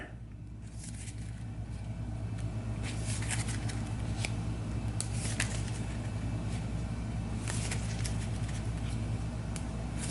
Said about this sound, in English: We'll go ahead and shuffle all of this up.